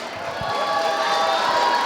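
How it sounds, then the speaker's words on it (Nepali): College dance competition audience bursting into loud applause and cheering after a group dance, a dense roar of clapping and shouts that swells and stays strong. "जोरदार ताली"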